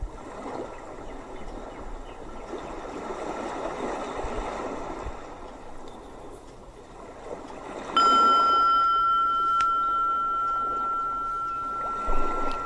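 A meditation gong is struck once after a stretch of quiet room ambience, its bright tone ringing out loudly and sustaining with a long, slowly fading hum.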